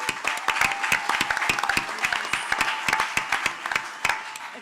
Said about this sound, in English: a big hand of applause to the organizers of this World Cup